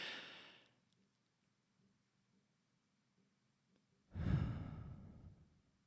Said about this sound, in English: Breathe in and just hold it for like 2 seconds.